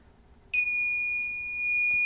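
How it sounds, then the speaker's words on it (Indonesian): An electronic buzzer switched on remotely via Blynk starts abruptly after a quiet moment, then holds a loud, steady, piercing high-pitched tone to the end. "Kemudian kita juga dapat menyalakan buzzer."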